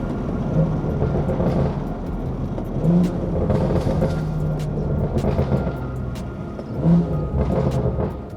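BMW 340i with a B58 engine pulls hard under acceleration, a steady loud engine drone with brief rises at each gear shift, heard from inside the car.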